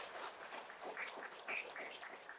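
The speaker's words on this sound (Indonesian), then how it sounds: "Tepuk tangan untuk Mas Wahid dan Mbak Nanda." An audience at a university lecturer certification presentation claps in a continuous, moderately loud patter with a few sharper accents, no voices over it.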